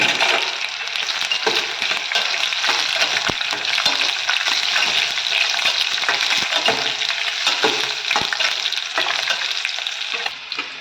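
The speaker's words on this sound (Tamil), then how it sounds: "இப்போ பாருங்கள் முந்திரி சவந்துருச்சு" Cashews fry in hot oil in a home kitchen pan for a South Indian tiffin, giving a steady loud sizzle with frequent stirring scrapes and small crackles throughout, no voices.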